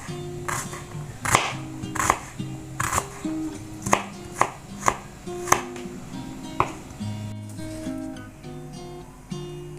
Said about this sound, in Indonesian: Kita potong-potong dulu bawangnya Bunda